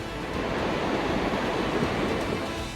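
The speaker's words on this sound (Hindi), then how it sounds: "उफान मारती लहरें जहां से गुजर रही हैं, भारी भरकम घरों तक को तिनके की तरह अपने साथ बहा ले जा रही हैं।" Surging floodwater after a landslide in Peru roars as a loud, continuous broadband rush, steady and close throughout with no voices.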